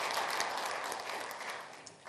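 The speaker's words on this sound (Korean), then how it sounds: "저분들은 박수 한번 쳐주세요." An audience at the 2018 New Gyeongbuk Forum in Korea applauds, a dense, steady wash of many hands clapping at fairly close range that continues for the whole two seconds and eases slightly toward the end.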